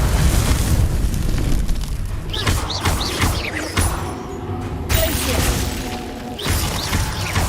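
Confringo fire spells explode in Hogwarts Legacy, heavy booming blasts and crackling fire bursts in close succession over game noise, loud and near, with a brief quieter gap before another blast.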